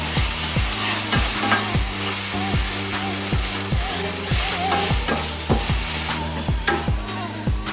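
Schezwan sauce mixture being stirred in a pan, with steady sizzling and a regular rhythm of scraping strokes repeating about twice a second, close and fairly loud throughout.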